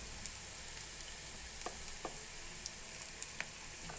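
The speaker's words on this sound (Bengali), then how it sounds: "কাঁচামরিচ দিয়ে ডিম ভুনা করছি মা" Eggs sizzling softly in a pan with green chili, turmeric and ginger-garlic paste, a steady faint fry broken by small pops and crackles, with no one speaking.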